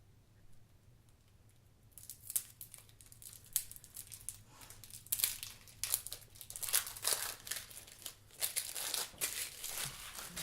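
Plastic-wrapped cards for the Dead of Winter board game being unwrapped up close: crisp, irregular crinkling and tearing bursts that start after a quiet moment and continue in uneven flurries, with no talking.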